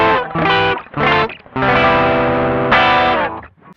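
Electric guitar through an Ibanez TS9 Tube Screamer overdrive pedal plays a few short chords, then longer sustained ones, warm and mid-heavy with a slight chorus shimmer, loud and close with no voices.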